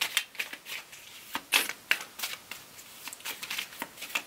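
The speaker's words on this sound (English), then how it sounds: "I'm going to shuffle here on camera so I don't cheat" A deck of cards is shuffled by hand close up, a quick series of crisp riffling bursts and soft taps in an otherwise quiet room.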